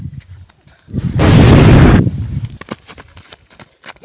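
A loud grenade blast booms up close, a roughly one-second broadband roar that trails off, surrounded by scattered shouting and movement during a tense armed confrontation.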